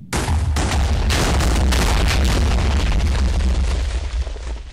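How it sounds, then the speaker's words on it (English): A big TNT blast in a video game booms loud and close, a deep rumbling burst with crackling debris that rolls on for several seconds before easing off. "It was a perfect explosion, too. The TNT blew up every single block around it that was actually intended to be blown up."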